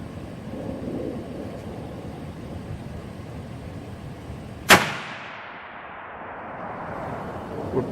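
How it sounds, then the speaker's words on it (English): Single sharp rifle gunshot fired at a target through an ATN X-Sight HD 5x18 scope, a loud crack midway followed by a fading echo over quiet outdoor background. "we're going to shoot at the same target"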